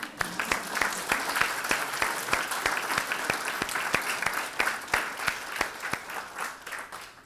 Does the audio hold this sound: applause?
yes